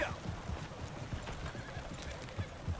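Horse in Red Dead Redemption 2 gives a whinny at the start, then hooves clop in a steady rhythm on the ground, fairly close and moderately loud throughout.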